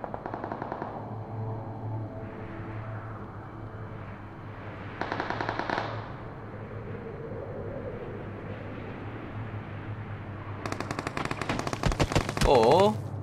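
Automatic gunfire in the mobile battle-royale game PUBG Mobile: several short bursts of rapid shots, close and sharp, over a steady background hum of game ambience, with a faint voice.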